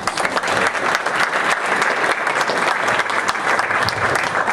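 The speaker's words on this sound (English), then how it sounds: "let's give a round of applause and thank our panelists" Sustained applause from a seminar audience thanking a panel of speakers, steady dense clapping filling the room throughout with no break.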